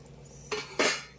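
A metal spoon scraping and clinking twice against a cooking pot while ground pepper, chilli powder, turmeric and cumin are mixed for chicken biryani, close and brief in a quiet kitchen.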